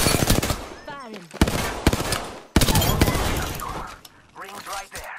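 Gunfire in the Apex Legends battle royale game, rapid loud automatic bursts and sharp cracks in clusters, close up, mixed with shattering impacts and other game sounds, with a voice speaking over parts of it.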